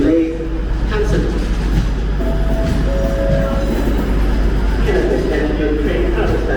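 A train rumbles steadily at a platform of Birmingham New Street station, a continuous low drone with faint tonal whine, filling the whole stretch without voices.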